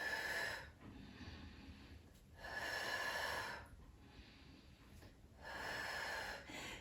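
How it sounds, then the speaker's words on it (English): Three slow, audible breaths out through the nose and mouth during a standing Pilates balance exercise, each a soft close airy exhale separated by quiet pauses. "We're going to breathe out."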